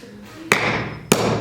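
Two sharp, loud hammer blows strike a nail about half a second apart, each a hard metallic thud with a brief ring, in an indoor classroom-style setting with no talking.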